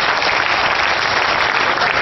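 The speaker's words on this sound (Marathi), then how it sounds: "एकदा जोरदार टाळ्यांच्या गजरात दाद द्या" Loud, dense applause from an audience at a poetry recitation, a continuous roar of clapping that stays strong and even from start to finish.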